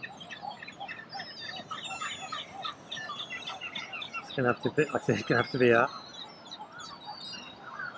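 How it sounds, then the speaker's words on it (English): Seagulls call along the beach at Essaouira, a series of short harmonic cries bunched together midway, fairly close, over steady outdoor ambience while a person talks through most of it. "Is that another one of our seagulls?"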